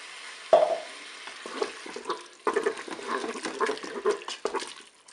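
Water, 200 ml, poured onto sizzling beef in a Cookeo multicooker for courgette-beef lasagne: a sharp hiss at the start, then bubbling and spluttering with stirring noises, close and moderately loud, no voices.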